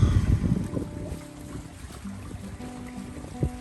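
A sailboat moves under sail on a beam reach in open water off Vancouver Island, with soft wind and water wash that is louder at first and then settles into a quiet hiss with faint creaks.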